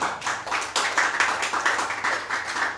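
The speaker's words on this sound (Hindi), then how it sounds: "एक बार फिर से ज़ोरदार तालियां" An audience at a poetry performance bursts into loud, steady applause, a dense wash of many hands clapping close by with no talking over it.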